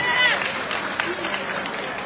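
A crowd at a political party assembly applauds with scattered clapping and a murmur of voices, steady and moderately loud.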